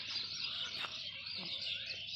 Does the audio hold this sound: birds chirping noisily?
yes